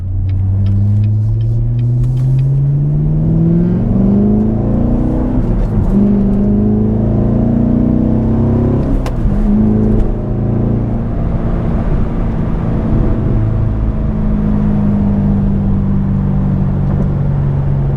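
A 2019 Chevrolet Corvette base model with a new aftermarket exhaust revving and pulling hard, a deep loud V8 rumble climbing in pitch through the gears with shifts, then settling into a steady droning cruise, heard up close from inside.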